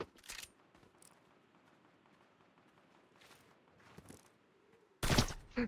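Gunfire in Fortnite OG Season 7: scattered faint shots and footsteps over quiet game ambience, ending in a sudden loud close burst of fire.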